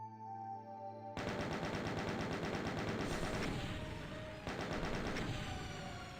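A chaingunner in a Doom mod fires a sustained, rapid burst of machine-gun shots, loud and continuous with a brief stutter partway through, following a moment of quieter game ambience.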